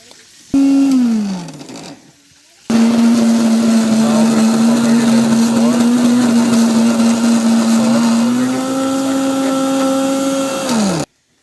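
A blender grinds hummus ingredients (tahini, olive oil) with added ice in two runs: a brief start-up that winds down, then a long, loud, steady whirring hum with a slight pitch shift before spinning down.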